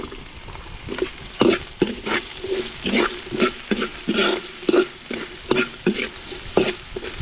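Carrots sautéing in a pan with garlic, a bright sizzle broken by repeated scraping stirs of a utensil at an uneven rhythm, close and fairly loud.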